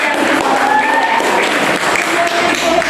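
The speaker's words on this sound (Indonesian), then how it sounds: "Tepuk tangan dulu anak-anak." A class of schoolchildren claps together in a classroom, a steady continuous patter of small hands filling the room, with a few faint voices and whistly tones mixed in beneath.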